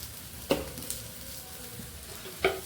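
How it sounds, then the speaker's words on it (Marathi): Onion and chilli frying in oil while spices are stirred in, a low steady sizzle with a couple of sharp spoon-against-pan clinks near the start and end. "कांदा आणि मिरची तेलामध्ये छान फ्राय झालेली आहे."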